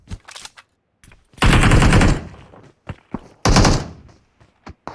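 Bursts of automatic gunfire in the battle royale shooter PUBG, with a short spray at first, then two long loud volleys, scattered single shots between them.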